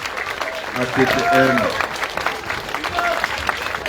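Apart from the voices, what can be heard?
audience applause for the students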